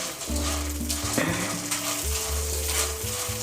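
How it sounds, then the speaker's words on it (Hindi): Popcorn kernels stirred through hot oil and butter in a pot sizzle continuously with a soft hiss, while a low, steady tonal hum drones underneath. "2 मिनट इसको मिक्स कर लेंगे ऑयल में"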